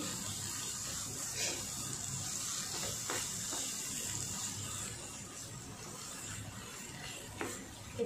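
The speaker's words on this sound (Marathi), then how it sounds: "आता आपल्याला मध्ये पाणी टाकायचं आहे" Water is poured into a pan of roasted masala for spicy dhaba-style sev bhaji, a steady wet pouring and splashing over a faint sizzle that runs for several seconds.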